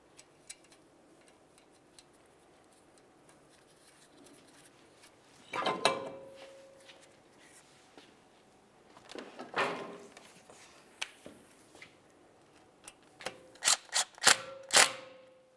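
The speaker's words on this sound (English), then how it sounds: "go ahead and put in that mounting bolt." Brake rotor mounting bolt being threaded into the hub of a 2011-2018 Volkswagen Jetta, faint metallic ticks and clinks, scattered scrapes, then a quick run of sharp ratchet clicks near the end.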